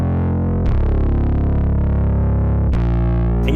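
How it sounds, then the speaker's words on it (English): Bass guitar run through a distortion plugin, sustained crunchy notes with dense buzzing overtones, two sharp re-plucked attacks partway through, loud and alone with no talk. "this is the original bass that has been crunched"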